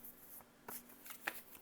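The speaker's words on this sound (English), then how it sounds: "Let's do a simple shuffle." Tarot cards being shuffled by hand, soft papery riffles and a few crisp flicks close to the mic, quiet and without talk.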